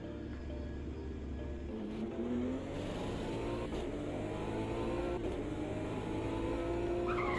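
Race car engine in a racing video game, revving and shifting through gears with skidding tire squeals, sustained and fairly loud over several seconds, no talking.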